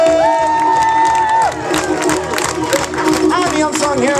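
Lively crowd cheering and clapping for a band at a music performance, with whoops and shouts over the applause and loud, busy energy throughout.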